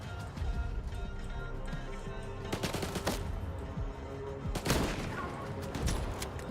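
Rapid game gunfire and explosive bursts from a STALKER shooter, dense and loud, with sharp blasts standing out against a continuous low rumble of battle.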